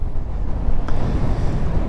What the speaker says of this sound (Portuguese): Que vento, bicho!